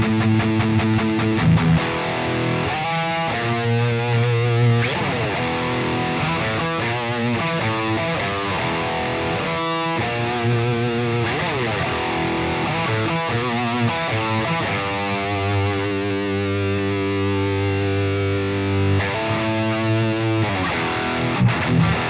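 High-gain electric guitar played through the Bogren Digital MLC Subzero amp plugin, a dense distorted tone chugging through riffs and sustained chords, loud and continuous with no talk.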